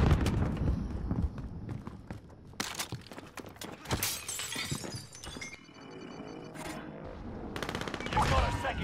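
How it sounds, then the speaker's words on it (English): Gunfire crackles through a Call of Duty Warzone match on Alcatraz, with sharp shots, bursts and shattering impacts over a busy rumbling background, fairly loud and close. "Under fire!"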